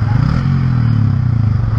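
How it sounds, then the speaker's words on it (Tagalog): A motorcycle engine idles steadily while standing in deep flood water on a street in Bacoor, a loud close low rumble with a rough pulsing beat, continuous throughout. "Huwag pong patayin ng makina"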